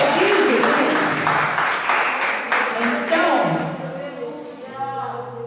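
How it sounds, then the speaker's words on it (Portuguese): A congregation at a church prayer service applauds, with a crowd of claps and voices mixed together, fading gradually toward the end while a person keeps talking over it. "pode aplaudir Jesus"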